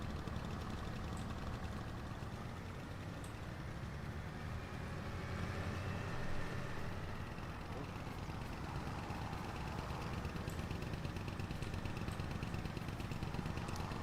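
A tractor engine in Farming Simulator 25 drones at a constant, moderately quiet level, an unbroken low mechanical hum with no change in pitch.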